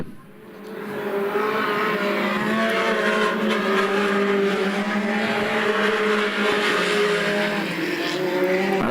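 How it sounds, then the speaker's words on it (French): A race car at speed on a circuit during a qualifying session, its engine holding a loud, steady high-revving drone with some tire noise, close and continuous, no talk. "La voiture qui tient très bien la route, très bien préparée pour Labonté."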